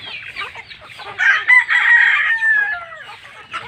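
Native chickens cluck in a spacious yard while a rooster lets out a loud, close crow in the middle, with softer clucking before and after.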